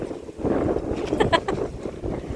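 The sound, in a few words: cold wind on a mountain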